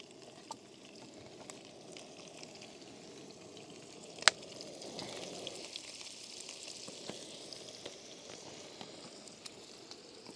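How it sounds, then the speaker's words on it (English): Quiet, steady sizzle of food shallow frying in a pan on a Trangia camping stove, with a sharp click partway through and faint crackles throughout. "So we're just going to shallow fry these."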